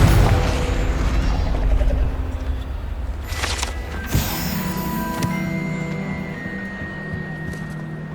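A Confringo fire spell from Hogwarts Legacy detonates in a loud, deep boom that rolls into a crackling, rumbling tail with mechanical whirs and ringing magical tones fading over several seconds.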